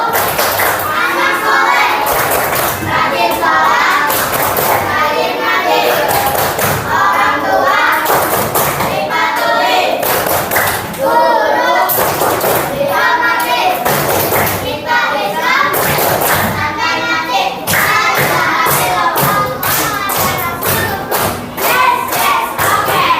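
A classroom of children performing the 'tepuk anak soleh' clap chant, chanting together in loud unison while clapping in a steady, driving rhythm over repeated cycles.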